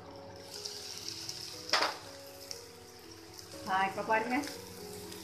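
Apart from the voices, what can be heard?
potatoes frying in a covered pan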